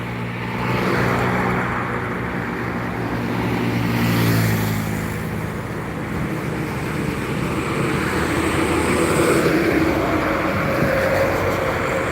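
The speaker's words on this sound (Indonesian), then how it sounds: "Ada truk tangki nah dari seberang." A tanker truck rumbles past on the road, a loud, broad engine roar that swells and fades as it goes by, with no talk over it.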